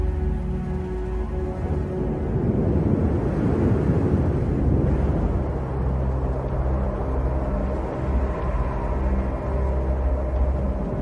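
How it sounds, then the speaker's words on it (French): Wind rises across a hot, dry savanna ahead of a storm, a loud and steady broadband rush that swells and keeps blowing the whole time with no break. "Le vent s'est levé."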